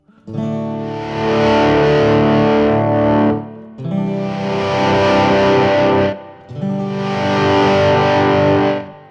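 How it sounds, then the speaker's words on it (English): Loud distorted electric guitar chords, played through a Line 6 Helix with a Variax and swelled with a volume pedal over an acoustic, swell in three sustained waves, each fading in and ringing out before a brief gap. "the distortion is fading in over the top and it's just so loud you can't hear the acoustic anymore"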